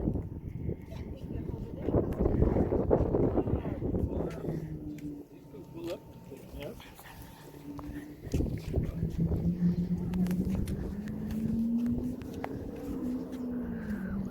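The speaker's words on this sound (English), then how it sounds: "Oh, it's windy." Gusty wind rumbles against the microphone at Hoover Dam, rising and falling in strength, with voices talking throughout and a faint tonal drone later on.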